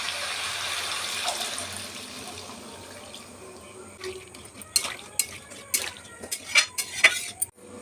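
Chicken curry with potatoes and chickpeas stirred in a pot: a low, steady background gives way to a run of sharp utensil clinks and scrapes against the pot, close and irregular, with no talking.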